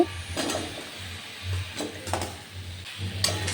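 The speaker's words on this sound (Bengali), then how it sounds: "এবার ভেজে রাখা আলু আর মটরশুঁটি একবারে দিয়ে দেব" Fried potatoes and peas stirred into a spiced ginger masala in a pan for a winter potato-and-pea curry, a soft sizzle with intermittent scraping stirs and clinks repeating through the short passage, no talking.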